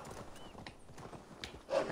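Steady clip-clop of horse hooves at a trot in Assassin's Creed Valhalla, fairly close, with a brief whinny-like burst near the end.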